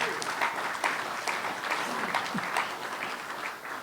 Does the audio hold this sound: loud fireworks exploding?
no